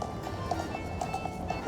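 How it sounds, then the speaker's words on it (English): Carriage horses clip-clop along a street in Kraków in winter, a rhythmic run of hoof strikes at a moderate distance, fairly faint over steady street ambience. "And do you hear the sound of their hoofs? It's like music to my ears."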